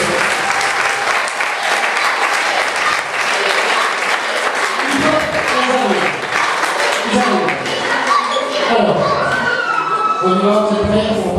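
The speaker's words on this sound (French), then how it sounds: "on peut déjà applaudir" An audience applauds dancers at a swing dance show, steady crowd clapping with cheers and children's shouts, while voices chatter and call out increasingly through the second half.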